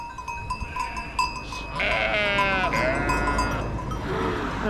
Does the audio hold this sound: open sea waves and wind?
no